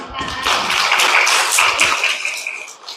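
A church congregation claps for a few seconds, the close applause swelling and then fading out, with some speech mixed in.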